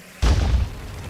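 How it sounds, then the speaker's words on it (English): A grenade going off in a video game, one sudden loud boom with a deep rumbling tail that fades over about a second. "I'm just gonna waste a grenade there"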